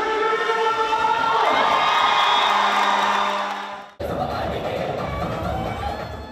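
Parents and children cheer and shout together in a sports hall at a volleyball final, a loud sustained crowd roar that drops out briefly near the end and then resumes just as loud.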